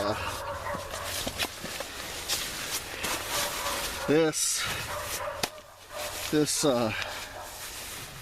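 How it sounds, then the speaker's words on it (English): Several neighborhood dogs bark back and forth at a distance on a cold early morning outside a hot tent at a winter campsite, with yelps rising over steady ambient noise while a person talks quietly. "You can hear every dog in the neighborhood's barking."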